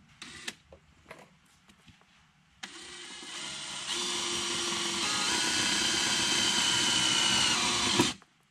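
Cordless drill gun driving screws to mount LED rock lights in a vehicle's wheel wells, a few short clicks and bursts followed by a sustained high whirring run that stops abruptly, close by with no talk.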